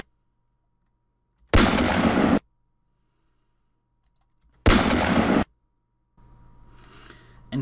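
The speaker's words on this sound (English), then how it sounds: "line up the very, very beginning of the gunshot with that frame, you'll hear it as soon as you see it" Two fake gunshot sound effects fire about three seconds apart, each a loud, near burst lasting under a second, separated by silence, followed by a fainter rustling noise at the end.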